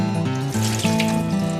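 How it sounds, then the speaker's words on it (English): Water draining out of an opened tofu package into a sink, a short close trickle and splash over a steady tonal background. "drain the water"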